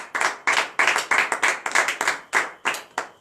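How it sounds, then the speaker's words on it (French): A congregation claps in rhythmic bursts during a morning prayer service in Benin, about a dozen sharp, evenly spaced clap groups, fairly close and clear with little else beneath. "Donnez l'acclamation à notre Seigneur Jésus."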